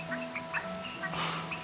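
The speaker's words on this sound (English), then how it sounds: "Great night for frogs. They're croaking everywhere," Red-webbed tree frogs calling at night in a Panama rainforest, short repeated chirping notes over a dense steady insect chorus, moderately loud and close.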